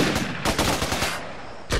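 Enemy gunfire rattles in the Xbox 360 game Raven Squad, loud, close bursts of automatic shots in quick succession with a short gap before a final crack.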